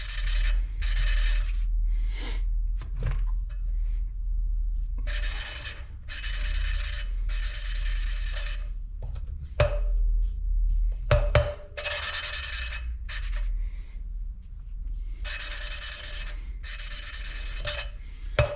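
A suction tool twists a valve back and forth against its seat in a 5.3 engine head from a Bel Air, making a gritty lapping rasp in repeated bursts with short pauses.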